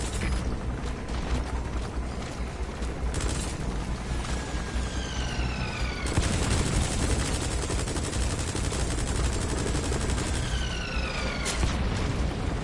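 Heavy video game gunfire, sustained rapid machine-gun bursts and booming impacts over a loud mechanical din, continuous for the whole stretch with no talking.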